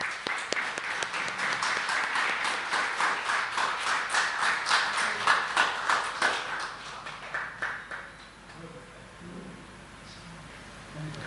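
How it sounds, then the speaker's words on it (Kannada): An audience at a Kannada literary program applauds loudly for several seconds, a dense patter of many hands with some rhythmic clapping, then fades into room hush. "ಜೋರಾದ ಚಪ್ಪಾಳೆ ಬರಲಿ"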